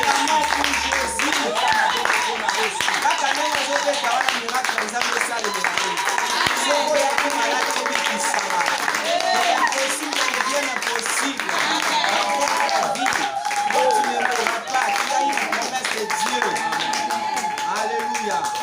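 A church congregation claps together at a Sunday service, with steady, dense applause running throughout under continuous music and voices.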